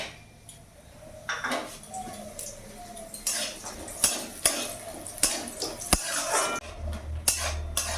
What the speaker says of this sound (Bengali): বড়িটা আমি ভেজে নেব।